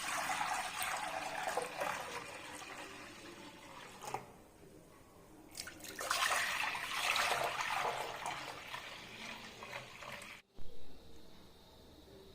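Rice-washing water pours and trickles steadily into a clay pot, pausing briefly before resuming, then stopping near the end.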